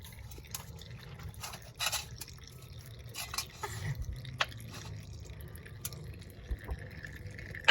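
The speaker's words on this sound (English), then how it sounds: "And this thing is still kind of dripping a little bit here" Oil slowly dripping from a 2015 GMC Denali LML Duramax diesel engine during an oil change, soft scattered drips and small liquid taps at close range with quiet background hiss.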